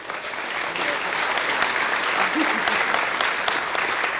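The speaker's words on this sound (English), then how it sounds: "Big applause for the faculty and all the providers in my department." Sustained audience applause fills a hospital department gathering at the unveiling of UW Health's Eastpark Medical Center, a dense, steady wash of many hands clapping at moderate loudness with a faint voice briefly audible beneath it.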